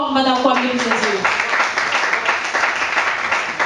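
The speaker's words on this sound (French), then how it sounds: "On applaudit très très fort madame Kwame Luzenzo." A studio audience applauds for Madame Kwame Luzenzo, steady loud clapping filling the room after a voice at the start, sustained without a break.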